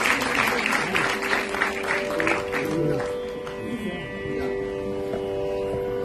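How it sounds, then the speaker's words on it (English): A crowd applauds after a classical dance performance at a cultural stage event, with clapping strongest at first and tapering over several seconds, mixed with faint voices and a sustained musical tone in the hall. "Can we have another round of applause for Gowri Poobalan?"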